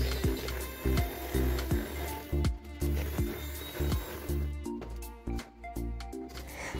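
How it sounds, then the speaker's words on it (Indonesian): An electric hand mixer beats a batter of margarine and egg yolks, whirring steadily with rhythmic pulsing and clattering as the beaters knock against the bowl. "Kalau sudah putih pucat, lalu masukkan untuk kuning telurnya, mixer kembali."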